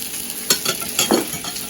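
Bananas and toast sizzle and crackle in a hot frying pan while a utensil scrapes and stirs in short, uneven strokes; no talking.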